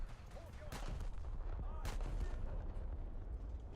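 Heavy 14-inch naval guns fire in a ship-combat video game, with a couple of sharp booms over a constant low rumble of battle, fairly quiet overall, with faint voices underneath.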